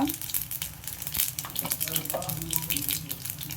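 Chana dal and urad dal frying in hot oil for a Telugu tomato and green chilli pappu, a steady close crackling sizzle with small pops running throughout.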